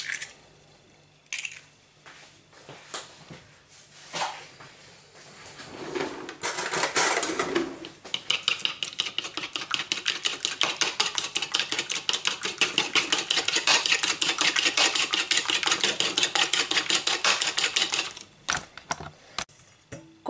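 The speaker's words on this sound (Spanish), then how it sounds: "vamos a batir el huevo mientras tanto" An egg whisked briskly in a bowl, a fast steady run of light clicking strokes lasting about ten seconds after some earlier handling clatter, close and clear.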